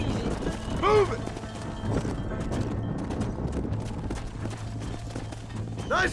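A herd of horses trots in the Red Dead Redemption video game, steady hoof clip-clop under a low rumble, with whinnies at the start and end.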